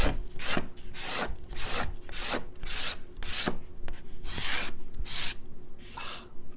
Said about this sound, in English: Nothing like scraping maple.